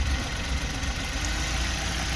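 Rough, uneven idle from a misfiring Suzuki DA64W K6A turbo engine, a steady mid-low running drone with irregular stumbling beats, close by and without talk.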